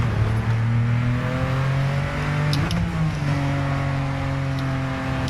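A 2017 Ford GT mid-engine car roars in Gran Turismo 7, its engine note rising and falling through shifts as it revs and accelerates, loud and close with no talking.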